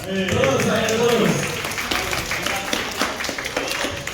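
Scattered clapping from a small crowd at a game jam event in Bandung, uneven and moderately loud, with voices talking over it.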